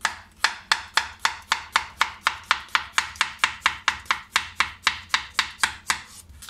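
A knife chops a small piece of cucumber on a board in a steady, fast rhythm of about twenty crisp, evenly spaced strokes, close and loud with no talking.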